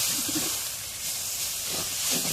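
Leafy greens tossed into a hot pan, sending up a loud, steady hiss of sizzling steam that holds for a couple of seconds with faint clatter underneath.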